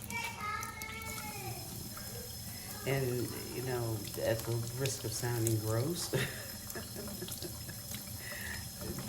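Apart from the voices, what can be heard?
tap water running over raw chicken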